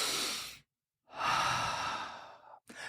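A slow, deep breath close to the mic: a long inhale, a brief pause, then a longer sighing exhale, with a short breath at the end.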